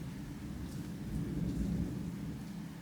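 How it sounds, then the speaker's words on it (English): Low, rolling thunder rumbles on its own from a distance, swelling slightly in the middle before easing, with a soft hiss like rain behind it. "Did you hear that thunder?"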